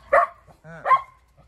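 A Shetland sheepdog barks angrily indoors, two sharp close barks with a short whine between them, during house cleaning.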